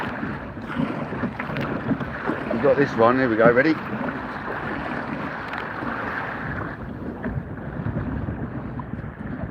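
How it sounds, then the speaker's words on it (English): Kayak riding through surf on rough, windy sea, with steady wind buffeting the microphone, water rushing and splashing, and excited voices talking over the noise throughout. "Bit of kayak surfing on the way in"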